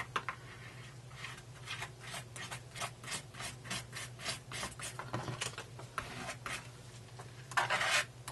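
Scraping residue off a surface while making paper thank-you tags, a run of close, rhythmic rasping strokes about one every third of a second, ending in a louder, harsher burst of scraping.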